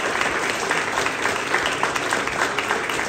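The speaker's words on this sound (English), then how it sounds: "Give them all a round of applause." Audience applause at a ceremony celebrating completion of an elementary school, steady dense clapping sustained throughout, fairly loud and close, with no talk over it.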